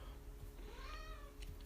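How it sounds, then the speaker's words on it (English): A cat meows once, a rising then falling harmonic call, faint and mid-distance over a steady low background hum. "why are you meowing at me?"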